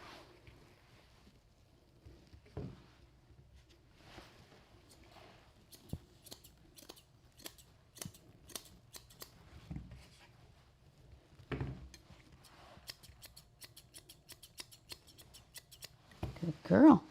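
Scissors trim a groomed female dog's tail, a run of sharp, evenly spaced snips close up, with quieter handling sounds and brief bursts of louder movement near the end.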